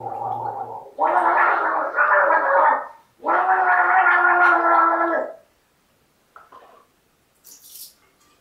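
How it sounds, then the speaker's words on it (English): Gargling liquid while singing, two long bubbly sung phrases with a shorter burst before them, fairly close and loud, then a few faint splutters and drips trailing off. "I don't just gargle and sing like most people do."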